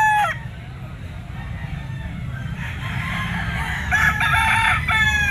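A yellow-legged bull stag gamecock crows at an outdoor pet market, a nearby crow rising over constant crowd murmur with other fowl calling in the background.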